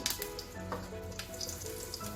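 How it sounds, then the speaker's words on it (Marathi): Water added to a hot oil tempering of mustard seeds, cumin, asafoetida and turmeric for a drumstick dal sizzles and crackles steadily up close, with scattered sharper pops throughout. "आणि आपण थोडं सुरुवातीला पाणी घालू"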